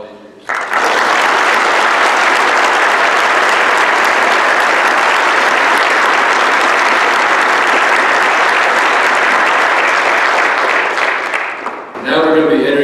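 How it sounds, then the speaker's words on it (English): At a Christian academy graduation, the audience breaks into a loud, sustained round of applause for parents and teachers, a dense unbroken roar of clapping that starts abruptly and fades near the end. "Join me in applauding all the parents and teachers for all that they have done for us all these years."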